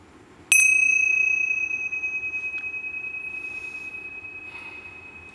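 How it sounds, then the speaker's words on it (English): One struck meditation bell rings out with a clear high tone, sustaining and slowly fading over several seconds with a gentle pulsing shimmer. "So let's chime our bell."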